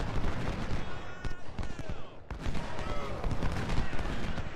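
Gunfire and artillery in the Civil War strategy game Ultimate General: Civil War at the Second Battle of Bull Run, a loud dense clatter of musket volleys and booming shots layered continuously.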